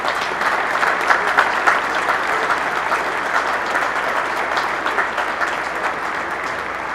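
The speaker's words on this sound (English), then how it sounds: "And I'd like to ask the members to please provide Aji a warm round of applause." Members of an electric cooperative's annual meeting audience give a warm round of applause, dense steady clapping from a large crowd filling the room for several seconds without speech.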